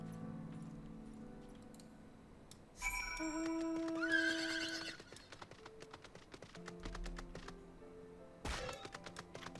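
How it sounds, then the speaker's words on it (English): A horse in Final Fantasy XIV: Heavensward gives a loud, clear whinny midway, with clip-clop hoofbeats and faint soft tapping around it, then a shorter snort-like burst near the end; no talk. "Horse wheeze."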